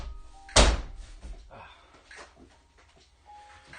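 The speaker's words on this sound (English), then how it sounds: "So that door bangs like that" A shortened door in a basement apartment bangs shut once with a sharp, loud thud near the start, then quieter rustling and shuffling follow.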